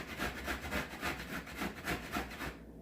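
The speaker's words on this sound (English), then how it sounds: "cheese was frozen, and now I'm grating it to put on pizza" Frozen dairy-free vegan mozzarella is grated for pizza with steady, rhythmic rasping strokes, about a dozen quick scrapes close to the microphone, soft and fairly quiet, then stopping.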